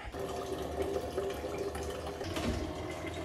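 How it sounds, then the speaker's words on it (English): Tap water runs steadily into a water tank at home, a continuous close rushing and splashing fill with no talk. "Let me maybe prepare my tank of water."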